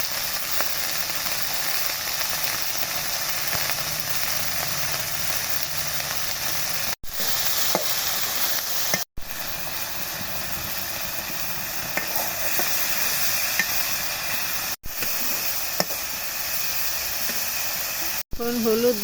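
Fish curry spices with green chilies and salt sizzling in a pan, a steady hiss broken by a few sharp cuts, with faint stirring throughout.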